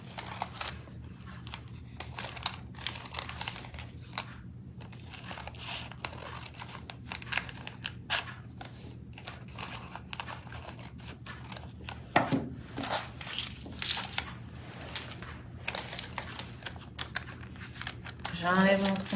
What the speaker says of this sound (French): je viens découper de chaque côté